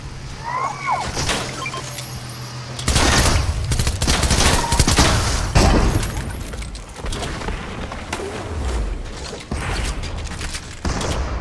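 Shotgun blasts in Fortnite, repeated loud booming shots and rapid bursts with mechanical clacks and shattering, close and dense throughout, with occasional voices underneath.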